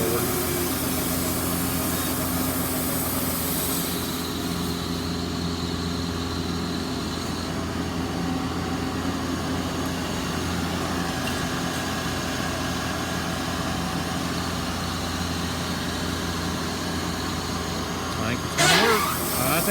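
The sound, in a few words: Wood-Mizer LT40 sawmill cutting pallet deck boards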